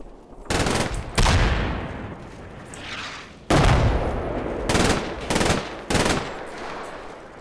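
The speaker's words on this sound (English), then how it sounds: "Oh, you guys are shooting at that building, okay?" Heavy gunfire from Combat Mission Red Thunder's Stalingrad mod booms out in several loud, separate bursts, each one ringing and decaying between the long and short volleys.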